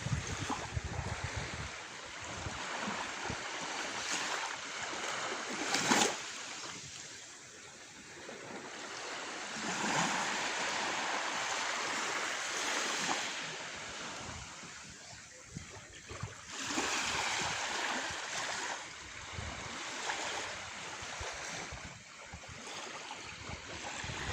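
Ocean waves wash in and recede in slow, soft surges of broadband hiss, faint and distant, rising and falling every few seconds with light wind noise.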